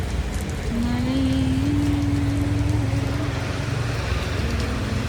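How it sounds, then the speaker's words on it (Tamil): Heavy downpour roars steadily outdoors, a dense broadband wash of rain mixed with a low droning engine hum, while a voice talks over it. "மழை பெய்கிற மாதிரி இல்லை, எவனா டேங்க் அவுத்து விட்ட மாதிரி இருக்கு."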